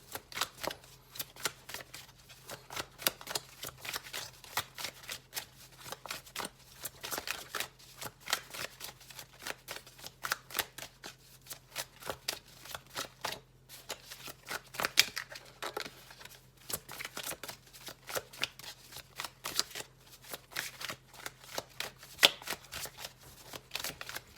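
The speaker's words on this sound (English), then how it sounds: "I'm just going to keep shuffling until we get one more card," Cards are shuffled repeatedly for a long stretch, a fast riffling patter with brief pauses, close and fairly quiet, with no talking.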